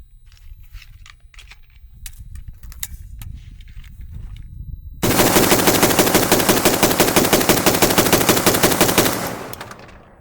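An AK rifle loaded with a standard Pro Mag magazine fires a rapid, continuous burst of loud, close shots lasting several seconds, after a quieter lead-in of faint handling noises and clicks.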